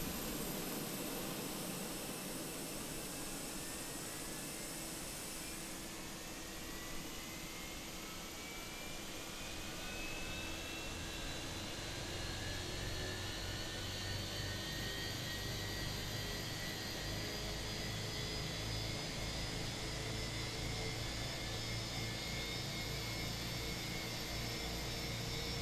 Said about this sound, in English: Make sure you're starting the APU bleed before you start the engines.